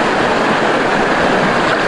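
Strong waves churn in the cold Nabas river, a loud, steady rush of water with wind buffeting the microphone and no voices.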